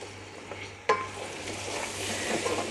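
Chopped tomato is stirred into a frying mixture in a pan for aloo methi, a potato and fenugreek dish. A spoon clanks sharply once against the pan, followed by a soft, continuous sizzle and scraping stirs.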